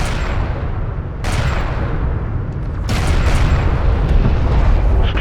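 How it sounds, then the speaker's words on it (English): Turret gunfire and explosions fill a battle in Homeworld: Deserts of Kharak, a loud, steady roar broken by sudden booming blasts, one near the start and a cluster toward the end. "One of our turrets is taking fire"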